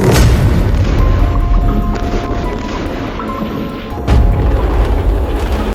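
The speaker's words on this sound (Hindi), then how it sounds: "ये धमाके की गूंज और डर भरी लोगों की आवाज जो आप सुन रहे हैं" Deep, loud booming roar of explosions in Lebanon rumbling continuously, with a fresh heavy blast near the four-second mark, and frightened people's voices faintly mixed into the din.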